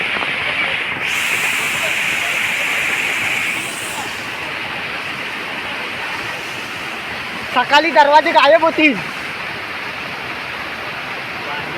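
Rainwater rushing over a road during heavy rain, a steady broad wash of flowing water heard close, with a person talking briefly over it.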